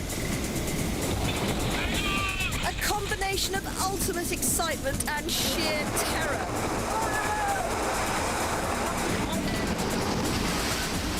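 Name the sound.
big ocean wave crashing against a racing sailboat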